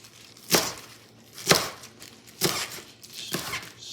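A knife slicing a vegetable into half-inch slices on a cutting board for a vegetable green curry, four distinct crisp chops spaced about a second apart, close and clear, with no voices.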